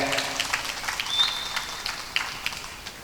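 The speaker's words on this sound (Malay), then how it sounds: "Tepuk tangan kakui personil hadrah nika." Audience at an Islamic religious gathering claps for hadrah musicians, a moderate, somewhat sparse spatter of hands with a faint lingering tone in the background.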